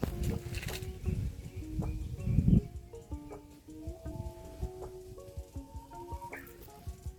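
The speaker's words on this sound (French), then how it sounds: "les oiseaux, on a vraiment des faux bruits, c'est incroyable" Recorded birdsong played over speakers in Japan, with faint, scattered chirps and short tonal whistles heard under soft rustling and a brief louder handling noise near the start.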